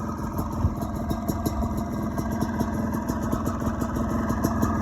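A Yamaha YZ400 two-stroke dirt bike, freshly built and started for the first time with untuned carburettor settings, idles steadily up close with an even, rapid pulsing beat throughout.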